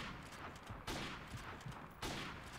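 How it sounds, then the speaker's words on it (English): Gunfire in the video game Call of Duty Modern Warfare Remastered, two sharp loud shot bursts about a second apart over dense, continuous battle noise. "that guy shot me through that barrier."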